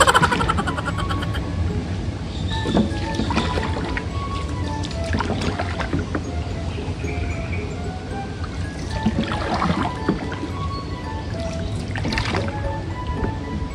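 Wooden paddle strokes and water sloshing around a small boat moving downriver on a strong current, a steady close wash of water throughout with occasional splashes and knocks.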